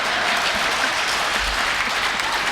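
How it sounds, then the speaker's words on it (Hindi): Audience at a Hindi comedy poetry show (hasya kavi sammelan) breaks into steady, dense applause, loud and close, filling the stretch with no speech over it. "आगे वाले भी ताली बजा रहे सारे लोग"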